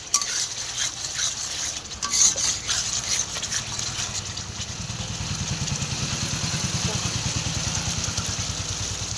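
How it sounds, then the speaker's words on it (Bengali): Spice paste fries in a pan while being stirred, giving a low, steady sizzle with soft scraping that grows a little louder, all faint under a background hum. "মশলাটা আরেকটু কষা হবে"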